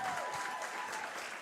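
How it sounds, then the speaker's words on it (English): Audience applause at a fashion show, a steady dense wash of clapping that holds at an even level throughout the short stretch, with no voices standing out over it. "Keep them round of applause going."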